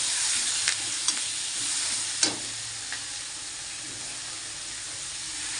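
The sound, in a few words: tomatoes and curry leaves frying and being stirred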